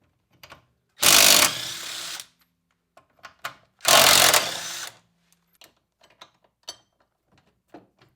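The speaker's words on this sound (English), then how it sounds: "So now, take those 4 bolts off to hold the bearing carrier" An impact or power tool whirs in two loud, roughly one-second bursts, removing the four bolts holding the wheel bearing carrier on a T3 Vanagon rear axle, separated and followed by scattered metallic clinks and handling noises.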